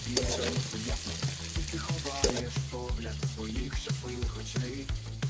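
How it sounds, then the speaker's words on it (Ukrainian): Potatoes sizzling in hot oil in a kazan cauldron as they are lifted out, with frequent clinks and scrapes of a utensil against the metal over a steady close frying hiss. "Так, наша картопля піджарилась, ми її дістаємо."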